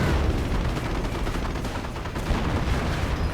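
Gunfire from an infantry half-track in a World War II real-time strategy game, a steady rattle of automatic shots blended with battle noise throughout, continuous and fairly loud with no talk.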